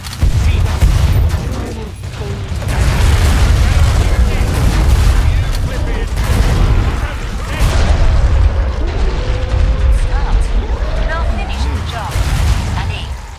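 Rapid, continuous explosions and gunfire fill a Killing Floor 2 match, loud and dense with booming blasts layered over chattering weapon fire for the whole stretch, while a voice comments underneath.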